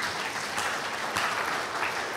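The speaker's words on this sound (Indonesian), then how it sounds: "Tepuk tangan buat Yesus." Church congregation clapping together after a pastor's sermon prompt, a dense, even roar of many hands filling the space, steady and moderately loud throughout with no voices on top.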